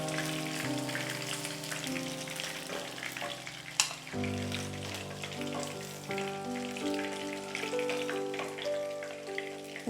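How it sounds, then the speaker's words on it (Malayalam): Chilli fish pieces frying in hot oil, giving a steady, close crackling sizzle that runs the whole time beneath soft tonal background music. "ബാക്കിയിരിക്കുന്നത് കൂടെ നമുക്കിതുമാതിരി ഫ്രൈ ചെയ്തെടുക്കാം."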